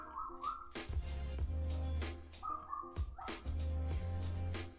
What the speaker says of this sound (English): Now these dogs barking are very loud and annoying.